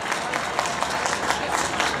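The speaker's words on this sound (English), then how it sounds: "Let's give another round of applause for Denise Gattoni." Brief, loud crowd applause at an outdoor Tax Day Tea Party rally in Chicago, dense clapping filling the whole moment.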